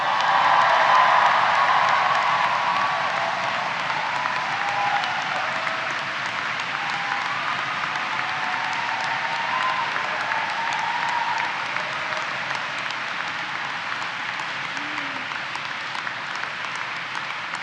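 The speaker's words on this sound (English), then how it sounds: "it's time for a second cheer to celebrate. So let's hear a bit more noise." A large graduation ceremony audience in Dundee cheers and applauds loudly and steadily, a dense wash of clapping and crowd noise holding throughout.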